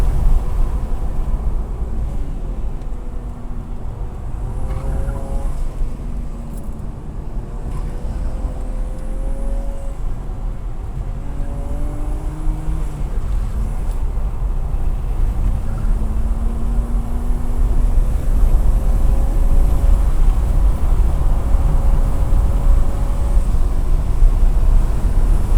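A modified BMW 335i E90 engine pulling hard on a race track, loud and close from inside the car, with rising and falling engine pitches through repeated shifts over a constant roar of road and wind noise.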